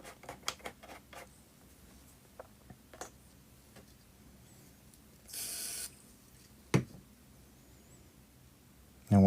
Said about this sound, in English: what I've just used there is some activator spray, which persuades the super glue to dry quicker